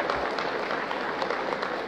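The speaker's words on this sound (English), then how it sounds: "A well-deserved round of applause for the outgoing Chief of Staff, General Andres Castor Centino." Brief applause from a seated military ceremony audience honouring an outgoing Armed Forces of the Philippines Chief of Staff, a steady patter of clapping at moderate distance with no talk over it.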